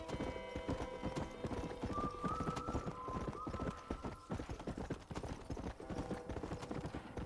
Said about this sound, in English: A war horse doesn't like being ridden so fast.